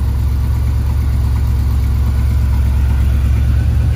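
A Lagonda car sits idling with a steady, loud low engine hum and a constant rumbling drone, no revving, unbroken for a few seconds.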